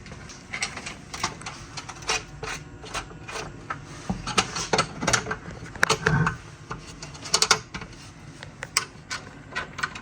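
Nuts are tightened with a ratchet on a timpani tuning gauge, heard as close, irregular bursts of clicking and mechanical rattling with brief pauses, fairly quiet overall, and nobody speaking.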